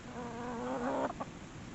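Farmyard chickens and roosters cluck faintly nearby: a low, steady murmur of calls with a couple of short, sharper clucks near the end. Constant outdoor background noise sits beneath them.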